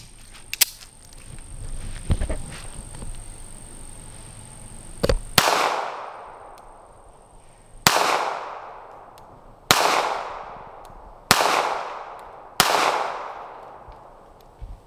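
Five sharp, loud gunshots from a Smith and Wesson Bodyguard 2.0 .380 pistol at a range, spaced about two seconds apart, each with a ringing decay, after some quieter handling noise.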